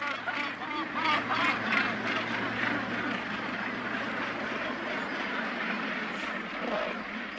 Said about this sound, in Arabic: تتزاحم الطيور مع بعضها وتدافع عن أرضها بشراسة